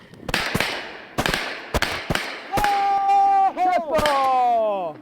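Shotgun blasts crack out during a snow goose hunt, several sharp, loud reports in quick succession, followed by a bright, strained whistling or calling tone that wavers and breaks near the end.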